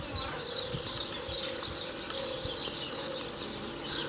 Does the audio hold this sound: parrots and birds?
yes